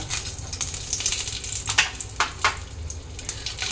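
Garlic cloves dropped into cashews frying in mustard oil, a continuous close sizzle broken by several short sharp crackling spurts and stirring clatters.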